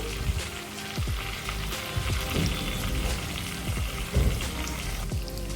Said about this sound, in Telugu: రెండో వైపు కూడా చక్కగా ఫ్రై చేసుకుందాము